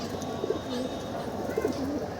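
Pigeons bathing coo repeatedly, soft rolling calls recurring in a slow rhythm over a steady low background hum.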